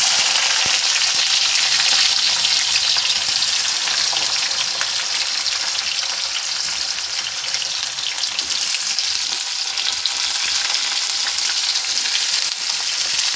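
Bitter gourd sizzles and crackles steadily in hot oil as it is added to the pan, a dense, continuous frying hiss that stays loud and close for the whole stretch, with no talking.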